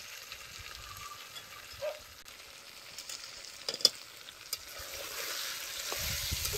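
Cashews and almonds are dropped into a hot pan and roasted for vermicelli kheer, giving a soft intermittent sizzle with scraping stirs and a few sharp clinks, growing slightly busier toward the end.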